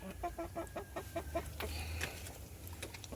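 A pet chicken clucks in a run of quick, evenly spaced soft clucks, then gives a few scattered calls and rustles, close by but quiet over low background noise.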